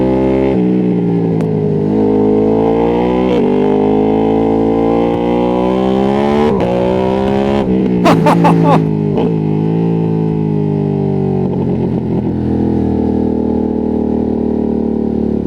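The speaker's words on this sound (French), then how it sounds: "l'échappement d'Amignoni, il est fabuleux" A Ducati Streetfighter V2S is heard from the rider's position, its exhaust droning loudly and continuously as the engine rises and falls through gear changes, with a burst of crackles partway through.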